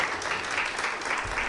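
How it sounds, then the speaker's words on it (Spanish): Congregation at a church service breaks into steady, dense applause, a continuous wash of clapping from many hands filling the room without pause. "Un fuerte aplauso para nuestro hermano."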